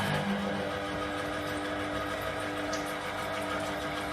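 An electric lemon juicer squeezing lemons gives a steady, close motor whir with a constant hum, continuing unbroken throughout.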